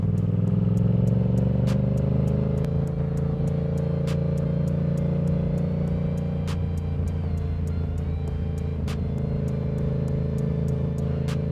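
Yamaha R7 motorcycle ridden on an afternoon outing, a steady engine drone and road rumble holding at one pitch throughout, with faint ticking clicks recurring over the continuous hum.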